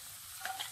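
Carrots, peas and capsicum sizzle in a seasoned pan while being stirred, a faint short hiss with a couple of light clicks and no voices.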